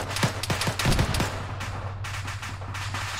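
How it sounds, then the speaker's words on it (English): A frag grenade going off in the ArmA 3 military game, heard as a cluster of sharp, loud cracks and bangs early on, then a rumbling tail fading under steady background noise, with no voices. "There were guys right on where my frag just went off at."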